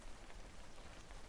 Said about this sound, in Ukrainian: це звук весняного дощу